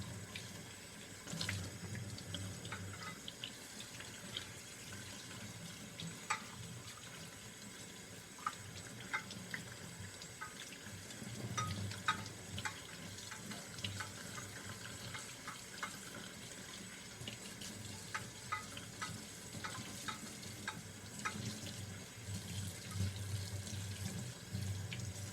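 Tap water runs steadily from a faucet, rinsing polish paste off a brass piece, a continuous moderate splashing stream with small droplet ticks throughout and no voices.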